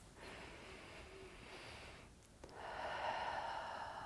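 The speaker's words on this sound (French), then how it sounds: "La respiration est tranquille." Slow, steady breaths drawn in and let out through the nose during a pilates exercise, close and soft, with a short pause before a longer, breathier exhale.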